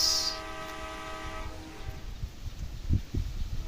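A Howrah Express train in the Indian Bike Driving 3D mobile game sounds a high horn blast at the start, then rumbles along steadily with low wheel thumps building toward the end, fairly quiet and with no talking.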